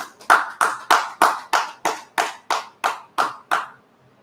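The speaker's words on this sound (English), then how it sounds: "Clap it up" Audience clapping in a slow, deliberate unison rhythm, about a dozen sharp, evenly spaced claps that ring briefly in the room before stopping.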